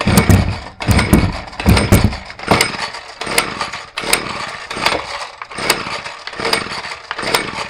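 A small engine sputters and runs with the trigger squeezed and held and the choke set to half, its loud close pulsing rattle surging and dipping in uneven bursts.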